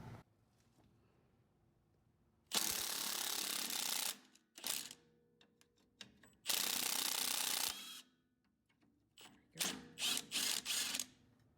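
A hand ratchet works loose the nuts and bolts on the front upper control arm of a 1998-2003 Acura TL/CL, heard as several sustained bursts of rapid clicking separated by quiet pauses and small clanks.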